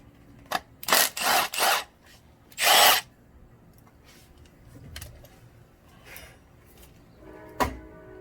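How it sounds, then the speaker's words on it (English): A power tool buzzes in several short, loud bursts while removing a small bolt near the starter of a second-generation Toyota 4Runner, then quieter clicks and faint clatter follow close by. "So let me take out this little bolt right there first"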